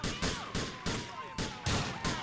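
Repeated bursts of gunfire in a realistic-mode police video game, roughly every half second, with a steady electronic tone underneath and faint voices in the background.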